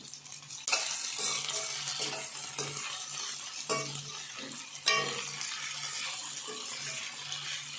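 Boiled prawns frying in a pan for prawn biryani, a continuous close sizzle with repeated scraping and stirring bursts from a spatula, no talk.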